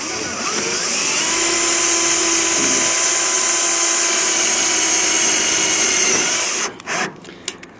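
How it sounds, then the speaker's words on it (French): Power drill driving a self-drilling screw into a zinc downpipe, a loud continuous high whine lasting about six seconds before stopping abruptly, followed by a few short clicks and knocks. "je mets une petite autoforeuse, comme ça"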